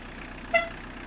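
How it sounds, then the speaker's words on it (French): Original factory horn on a red 1993 Citroën ZX 1.9 TD Volcane, sounding one short, clear honk at close range over faint background hum. "Le klaxon est d'origine."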